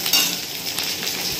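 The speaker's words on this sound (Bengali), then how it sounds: "ভাজা হচ্ছে।" Fish fries in hot oil in a pan, giving a loud, close, continuous sizzle and crackle with no voices.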